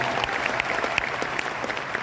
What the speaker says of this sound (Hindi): तो मैं चाहूंगा भगवान के लिए एक बार जोरदार ताली।